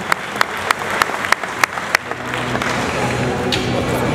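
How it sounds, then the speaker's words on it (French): An audience at an evening event in Besançon applauds, opening with a run of sharp, separate, evenly spaced claps that give way to a looser, denser patter of clapping with a faint murmur beneath. "Je crois qu'on peut l'applaudir."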